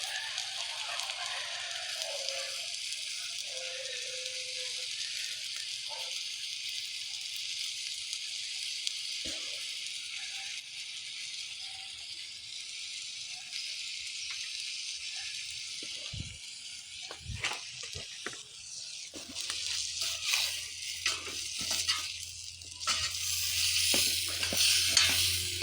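Squid adobo sautés in a pan, a continuous bright sizzle with occasional stirring scrapes and clinks, growing louder and busier toward the end.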